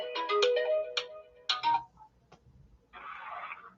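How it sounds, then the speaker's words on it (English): A phone's ringtone plays as an incoming call arrives during a holiday party livestream, a bright melodic tone ringing out clearly, stopping briefly, then starting again as a burst of ringing. "Oh, we got a phone call."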